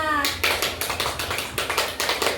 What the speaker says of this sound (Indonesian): Kita beri tepuk tangan dulu untuk teman-temannya.